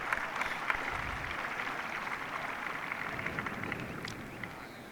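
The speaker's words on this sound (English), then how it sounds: "the applause you heard there was Mark Leishman tapping in for his birdie up at 16" Distant golf gallery at the Masters applauding a birdie tap-in on the 16th hole, a soft, steady spread of clapping heard from afar, slowly fading.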